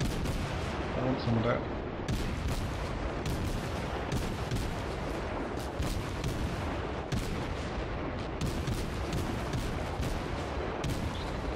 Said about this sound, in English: All guns fire at will, and let's just cause as much damage as possible to this poor sod